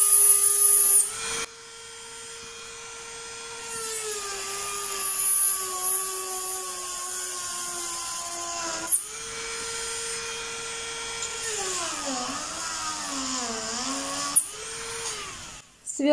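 Power drill boring holes into different stones whines with a high sustained tonal pitch that dips and rises as the bit bears into the rock, stopping and restarting between passes, close and fairly loud.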